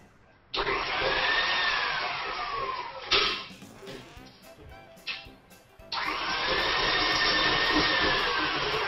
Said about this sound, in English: So I'm going to beat these together now.